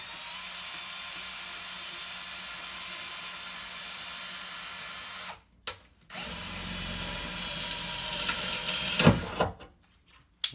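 A power drill bores a hole under a sink while fitting a water filter, with steady whirring that stops briefly, then restarts with a rougher, harsher grind.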